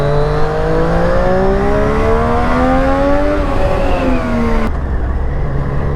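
A Triumph Street Triple RS motorcycle engine revs loudly and close, its note climbing steadily in pitch for several seconds before abruptly dropping off to a lower idle.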